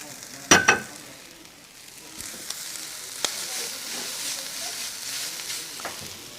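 Korean wok noodles, 300 grams, sizzling in a hot wok, opening with a couple of sharp clattering hits followed by a steady bright frying hiss with occasional scrapes, close and fairly loud.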